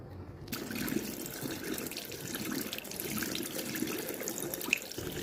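A toothbrush is rinsed under a running bathroom tap, with a steady close stream of water splashing into the sink for several seconds, no talking.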